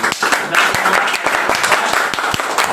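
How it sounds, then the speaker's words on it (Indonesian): Classroom applause for a student group about to present, a dense burst of clapping from a room of students close by, steady for nearly three seconds with a few sharper individual claps standing out. "Beri tepuk tangan dulu"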